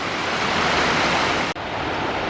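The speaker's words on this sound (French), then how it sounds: "C'est vrai qu'on passe à côté de belles cascades" Mountain waterfalls in the Pyrenees rush with a dense, steady roar of falling water. The roar stays loud and even, cutting out for a split second midway before resuming.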